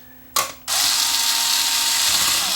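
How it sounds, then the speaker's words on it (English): Electric screwdriver driving screws into brittle plastic on a Pioneer X-CM30 CD unit, a short loud burst of motor whine, a brief pause, then a longer sustained close whir. "I'm not even letting the screwdriver all the way cinch the screws up"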